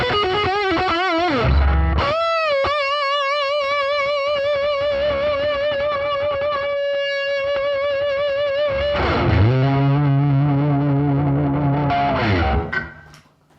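An electric guitar run through a Speaker Quaker speaker-simulating effect pedal plays a short distorted phrase, then holds a long sustained note before a lower bending phrase fades out, loud and alone.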